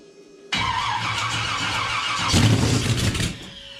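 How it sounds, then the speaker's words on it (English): A Chevy small block nitrous engine cranks briefly, then catches and fires up, rising into a loud, rough revving roar before easing off, close and alone. "I'm going to crank it and then turn the ignition"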